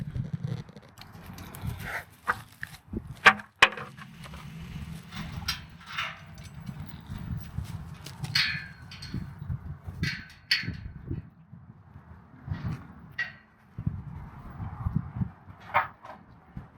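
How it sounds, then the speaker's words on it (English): Pigs trotting over toward a garden greenhouse site, heard as scattered hoof patter and clip-clop-like steps with snuffling, at moderate distance over a low background hum. "Them pigs are coming, dude."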